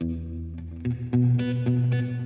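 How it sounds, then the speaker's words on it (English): Clean electric guitar notes and chords drenched in reverb, with a quiet dotted-eighth delay repeating each attack in a galloping rhythm; sustained tones ring out alone with no talking. "I set it as a dotted eighth delay, very quiet on top of the reverb"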